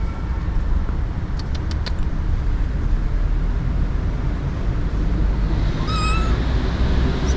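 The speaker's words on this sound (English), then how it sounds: "What a sweet cat." A cat in Yerevan, Armenia gives a few faint, short meows over steady street traffic rumble, with another brief meow near the end.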